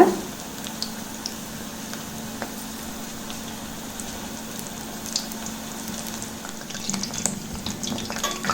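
Medu pakoda frying in oil over a slow flame gives a low, steady bubbling sizzle that runs evenly throughout, close and fairly quiet, with a few faint clicks.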